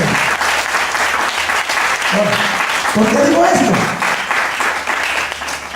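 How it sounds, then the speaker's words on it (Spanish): A church congregation applauds steadily during a sermon, a broad wash of clapping that runs the whole time while a preacher's voice speaks over it. "Dale por favor un aplauso."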